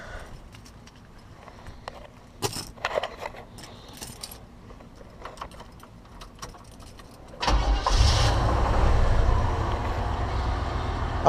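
A Chevy truck converted to electric fans cranks and catches, its engine settling into a loud, steady idle with the fans whirring, after several seconds of clicks and handling noises.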